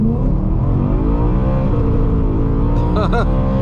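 Modified 2010 BMW E92 M3 engine revving high from inside the car, a loud steady rising drone with a sharp climbing whine near the end.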